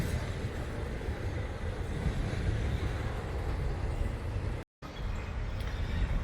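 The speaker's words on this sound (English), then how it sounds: "This is me trying to wait for this train to go by so I can do a video." A train rolls past near a cemetery, giving a steady, loud, broadband rumble that fills the whole stretch with only a brief dropout near the end.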